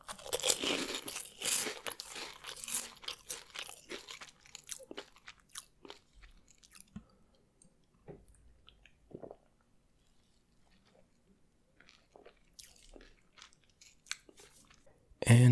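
Cheetos are crunched and chewed close to the microphone, with a dense burst of loud crunching at first that settles into softer, scattered chewing and squishing with quiet gaps.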